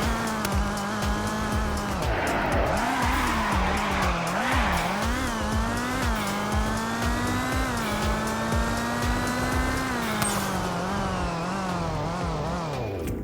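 A car in the Roblox game Car Crushers engine-whines and brakes with long, loud tire squeals that rise and fall, sustained skidding over about thirteen seconds with no speech.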